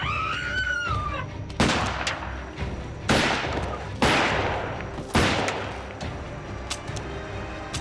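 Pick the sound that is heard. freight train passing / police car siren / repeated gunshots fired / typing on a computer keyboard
repeated gunshots fired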